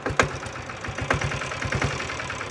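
A rare Royal Enfield Bullet motorcycle engine idles with a slow, thumping single-cylinder beat, moderately close and fairly quiet, with no talking.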